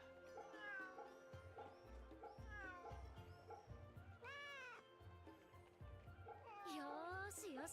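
A cat meows repeatedly in the video game Fate/Samurai Remnant, several rising and falling mews over a rhythmic background music bed, with a person talking over part of it.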